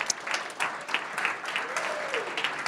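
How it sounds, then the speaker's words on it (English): A room full of people claps and applauds at the close of a Startup Village #44 tech meetup in Atlanta, a steady wash of clapping lasting several seconds with some voices mixed in. "So give yourself a round of applause"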